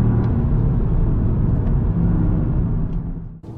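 A Toyota GR Yaris driven hard up the hill route at Millbrook Proving Ground gives a steady loud engine drone and road rumble, easing off near the end, with no talking.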